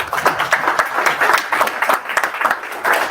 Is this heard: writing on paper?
no